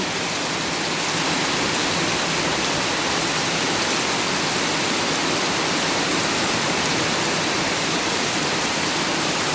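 A torrential downpour keeps up an unbroken, loud wash of hiss throughout, steady and close, with no voices over it.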